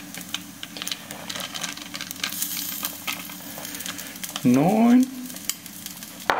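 Chicken sizzles and fries in a pan on rice paper, a steady crackling hiss with clicks, interrupted by a brief louder stir or scrape and a short spoken word.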